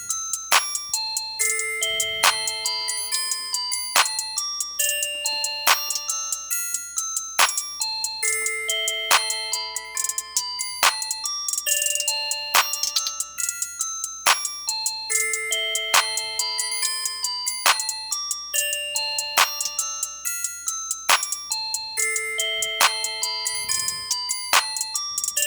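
A synthesized bell melody from an Ensoniq ASR-10 and FL Studio beat sequence plays in bright repeating chime notes with rhythmic hits, loud and continuous, with no talking.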